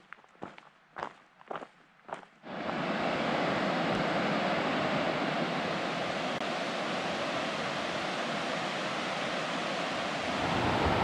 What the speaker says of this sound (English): You can just hear the rush of the River Tilt down to my right.